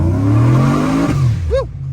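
Sleeper Chevrolet Silverado truck with over 650 horsepower accelerating hard in first gear, engine note climbing loud and close before a sudden shift drop, then a brief squeal of tires.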